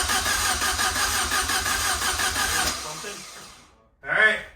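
A Saab 900 Turbo engine cranks with a rhythmic churning, then stops, followed by a brief loud burst of sound at the end.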